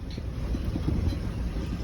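Wind rushes in a rough, steady rumble, buffeting the microphone up close with no voices, on a moving truck.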